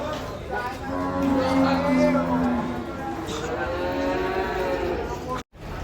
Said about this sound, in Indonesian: kedatangan sapi raksasa guys